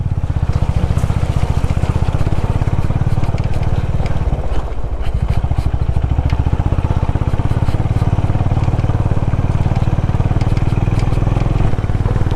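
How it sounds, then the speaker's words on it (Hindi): A motorcycle engine labours up a very steep mountain track in the Darma Valley, Himalayas, held in first gear: a loud, continuous low throbbing drone close by, with steady strain and no pause. "देख बाइक में पावर की कमी फील हो रही है अब।"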